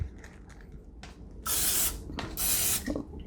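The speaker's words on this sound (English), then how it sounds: "I just take a little bit of spray and I kind of spray really briefly" Two brief hissing bursts of aerosol cooking spray onto tortillas, close up, separated by a short pause, with faint handling noises around them.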